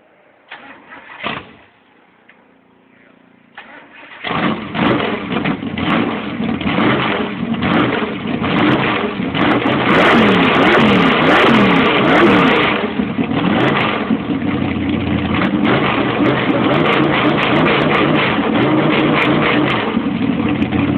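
A modded Chevy 454 V8 bored to 461, with upgraded cam, carburetor, headers, MSD ignition and Weiand intake, cranks and fires up, then revs loudly again and again before holding a rough, roaring high idle close by.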